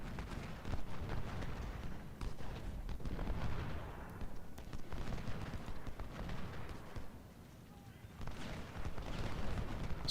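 Canister artillery fire and musket volleys rumble through a Civil War battle at Malvern Hill in the strategy game Ultimate General: Civil War. Dense, low, rolling gunfire and crackling shots run almost continuously, with a brief lull.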